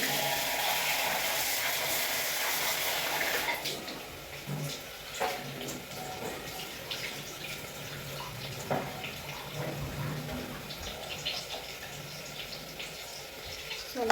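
Cold tap water runs and splashes as rice is rinsed for soda bhaat, a steady rush at first that turns into softer, uneven sloshes and trickles, with faint voice sounds.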